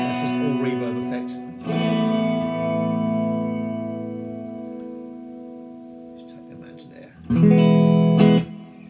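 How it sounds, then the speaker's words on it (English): Electric guitar chords ring out through a Laney TT50 amplifier's reverb, swelling into a long reverberant wash that slowly decays, followed by another strummed burst. "That's just all reverb effect."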